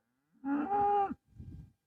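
A cow on a ranch calls to her calf with one loud drawn-out moo, followed by a shorter, lower grunt, close by with no talk.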